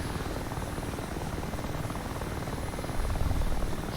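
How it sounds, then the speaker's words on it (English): An Mi-8 Hip helicopter in the DCS World flight simulator, its large main rotor thumping in a steady rapid beat over a dense engine roar, close and loud, swelling slightly near the end. "Don't get too close, we've got a great big huge rotor blade, Shifty."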